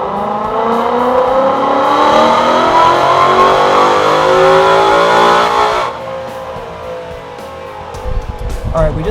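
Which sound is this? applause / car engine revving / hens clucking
car engine revving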